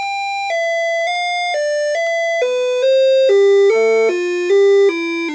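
A circuit-bent electronic toy plays a sustained sequence of pure, bell-like electronic tones that step down in pitch, each note held for about half a second against a faint steady hum.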